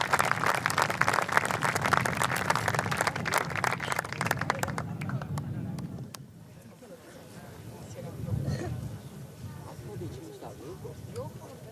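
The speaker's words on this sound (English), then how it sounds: "they deserve a round of applause" Applause for the winning golf captains at a college golf event, a crowd clapping steadily for about five seconds before fading out, followed by quieter background sounds and talking.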